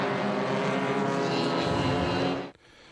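BMW E30 race cars circuiting Bruce McLaren Motorsport Park in a club race series, engines roaring loudly together in a sustained blare before cutting off abruptly near the end.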